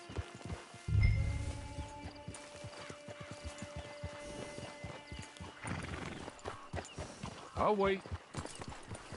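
A horse in a video game clip-clops along at a steady walk, with a sharp neigh early on and another whinny near the end, while characters speak briefly over the hooves.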